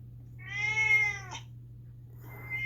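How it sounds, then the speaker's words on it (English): A recorded cat gives one long, loud, howling meow that bends downward at the end, close and clear over a steady low hum, followed by a softer rustle. "But that Mal, she howled like that all the time"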